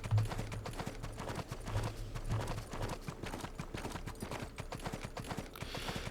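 Horse hooves clip-clop at a steady trotting rhythm in the Western mobile game Six Guns, the repeated hoof strikes mixed with game music and effects throughout.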